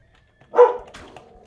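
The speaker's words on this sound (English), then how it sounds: "Sorry about the dog barking." A single dog barks once sharply indoors, followed by a quieter trailing yip, alone with no talk.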